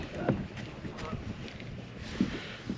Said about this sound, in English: we got just enough wind today to be annoying